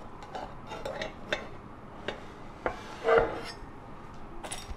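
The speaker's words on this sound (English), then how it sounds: "Next, we're going to transfer it to the cutting board." A pan pizza is slid out of its pan onto a cutting board, giving a few soft scraping and clinking taps of metal and wood, quiet and sparse with a slightly louder knock near the end.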